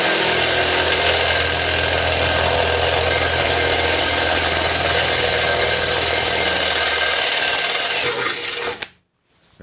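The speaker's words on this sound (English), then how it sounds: "I use a piece of tape on there and drill a little bitty hole to get started" A drill bores a small hole through taped metal on the rear fender of a Panhead motorcycle, a loud, close, steady grinding whir that runs continuously and then stops abruptly near the end.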